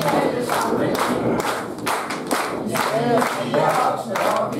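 Audience at the Uggelhuse Revy 2025, a Danish amateur revue show, applauds with steady, dense clapping and some cheering. The applause carries on loudly throughout, with a voice briefly rising over the crowd.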